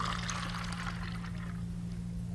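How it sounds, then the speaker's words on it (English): Water from a bottle is poured through a magnetising charger, a continuous close splashing pour running the whole time over a steady low electrical hum. "We're just going to use the water out of that bottle and pour it through for you."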